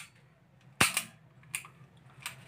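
An airsoft gun fires three sharp, close cracks, spaced roughly evenly, each a short bright snap with quiet pauses between.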